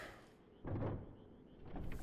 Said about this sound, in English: I believe you do have to be human to open this door